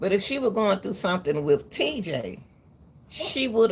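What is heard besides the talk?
No everyday noise stands out behind the speech.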